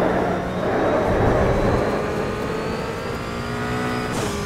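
A 1991 Ford Sierra ATCC race car in a racing video game, its engine droning loud and steady as it accelerates, pitch climbing gradually through the gear, with no pauses.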